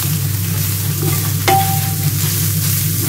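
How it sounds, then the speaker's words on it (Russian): Fried sauerkraut is stirred in a pan for pirozhki filling, a steady soft sizzle running throughout with a single sharp scrape of the utensil against the pan partway through, and no talking. "Вот так немножко поджарила ее"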